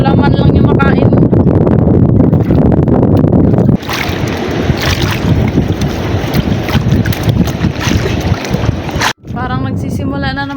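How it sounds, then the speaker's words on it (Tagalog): Strong wind buffets the microphone with a roaring rush, rising and gusting over a boat's hum and splashing water. "Parang nagsisimula na naman yung hangin."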